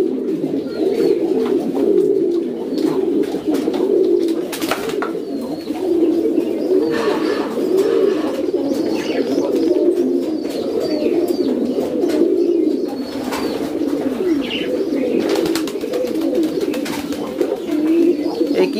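King pigeons coo steadily inside an indoor pigeon farm, a dense, continuous chorus of overlapping low, throaty calls from many birds at close range, with occasional wing flutters and a few faint chirps mixed in.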